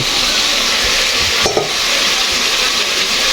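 Chicken liver being stirred in a pan with chayote and cauliflower, a steady broadband sizzle with scraping stir strokes, one sharper clack around the middle, no voices.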